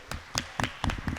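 Applause at a Pinole Valley High School Asian American and Pacific Islander celebration in 2024, a short stretch of scattered, fairly faint hand claps.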